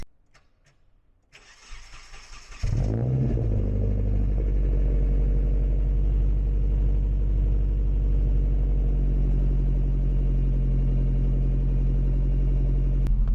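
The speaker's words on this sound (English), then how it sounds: "I'm gonna give you a little cold start moment." A pink Mazda Miata cold-starts: a brief cranking whir, then the engine catches and settles into a steady, loud, close idle rumble that holds unchanged for about ten seconds.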